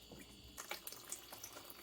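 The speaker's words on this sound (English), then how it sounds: "It's just residual water in the line, as I said, so just let it drain." Leftover water trickling and spattering out of an opened main supply line as it drains, a close, uneven wash of liquid with small irregular splashes and drips and no voices.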